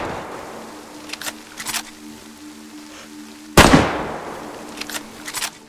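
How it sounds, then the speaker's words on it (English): Rifle shots at zombies in a survival video game: a few muffled, distant-sounding pops, then one loud close sharp crack with a brief decaying tail, followed by fainter scattered shots. "using my rifle to finish off these zombies"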